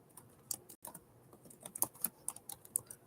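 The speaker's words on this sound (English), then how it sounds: "Let me see if I type that in right." Computer keyboard typing, close and fairly quiet, with irregular clusters of crisp key clicks and short pauses between bursts, no voices.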